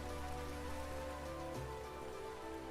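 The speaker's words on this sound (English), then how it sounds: "I think our rain might be a little loud." Rain in the video game Vintage Story, a steady patter of drops on surfaces heard quietly throughout, with a low tonal game sound shifting in the background.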